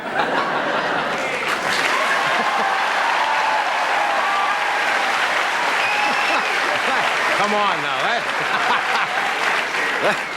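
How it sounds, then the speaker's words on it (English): Sustained studio audience applause at a late-night talk show, dense and steady for the whole stretch, with scattered chuckles and a voice briefly speaking over the clapping near the end. "the longer you applaud, the shorter the monologue"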